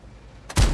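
A single heavy tank gun firing a blind shot in World of Tanks from a Jagdpanther II tank destroyer: one sudden, loud, booming blast that cuts in after a quiet hum and rings on briefly.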